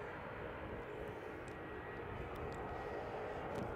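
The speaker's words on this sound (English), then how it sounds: "Dash 8 coming out, and it's off to Tauranga" A Dash 8 turboprop airliner taxiing out at Christchurch airport, a steady low droning engine rumble heard from a distance, continuous and even with no voices.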